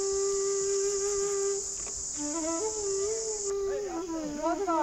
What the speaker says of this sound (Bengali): কানে তখন শুধু ঝিঝি পোকা ডাকার শব্দ শুনতে পাচ্ছি